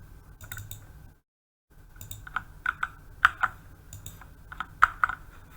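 Typing on a computer keyboard while entering text into a form, heard as bursts of close, crisp key clicks with a short silent pause, the later strokes sharper and more spaced out.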